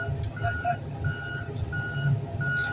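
Truck reversing alarm at a scrapyard crushing late-model cars, steady repeated beeps at an even rhythm over a low diesel engine rumble, moderately distant.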